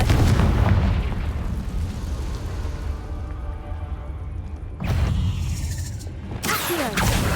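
In Hogwarts Legacy, a Confringo spell detonates with loud, close booms: a heavy rumbling blast that fades over several seconds, then two more sharp explosive bursts near the end, with no talk.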